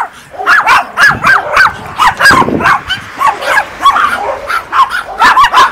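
Several dogs, including a chihuahua, bark outdoors in a rapid, overlapping string of sharp, high yips and barks. They are close and loud, and a few whines mix in.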